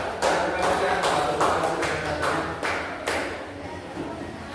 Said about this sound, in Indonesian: tepuk tangan Bapak Tinggal.